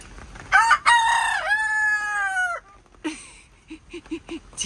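Chickens in a backyard coop during a night storm, with a rooster crowing loudly and close for a couple of seconds, then several short clucks in an irregular run.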